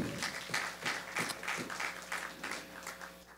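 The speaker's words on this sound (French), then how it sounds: "Oui, on peut applaudir." Sparse, quiet clapping from a small audience at a French-speaking gathering, a few hands patting out an uneven rhythm for about three seconds over a faint steady hum.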